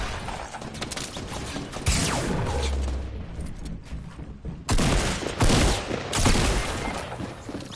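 Incoming gunfire in a PS4 game, loud bursts of shots and crashing impacts near the player, arriving in several intense clusters with brief lulls between them.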